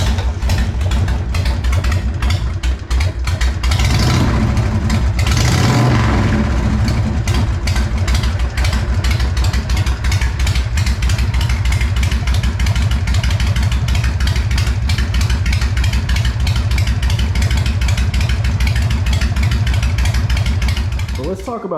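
A warmed-up carbureted motorcycle engine runs at a steady idle, putting out a continuous rapid pulsing rumble under a voice, with a brief louder burst early on.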